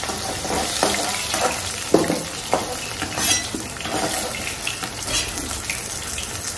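Onions frying in a pan in a home kitchen, a steady sizzle broken by scraping spatula stirs and a few sharper clatters, close and fairly loud with no talking.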